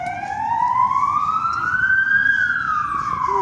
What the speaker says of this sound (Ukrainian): поїхала швидка допомога